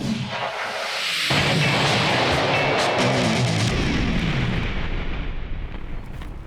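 A cannon fires a projectile with one huge, close bang that swells into a long, rumbling roar and slowly fades, loud and alone.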